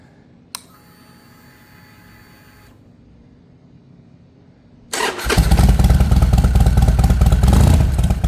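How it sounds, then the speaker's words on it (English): A 2013 Harley-Davidson 72 motorcycle cold-starting: a faint click, a few seconds of quiet, then the engine fires and settles into a loud, close, rumbling idle with no talk. "I'm going to give it a cold start and a little walk around"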